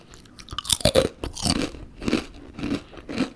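Close, crisp crunching and chewing of Southern Fried flavoured crisps, several loud bites in quick succession followed by rhythmic chewing crunches, no talking.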